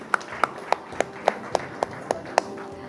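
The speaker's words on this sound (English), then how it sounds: "A huge round of applause for our Actor of the Year female, Janhvi Kapoor." Applause at a live awards gala honoring Actor of the Year Janhvi Kapoor, heard as roughly ten crisp claps in an even rhythm, fairly close, over a low hum of room noise.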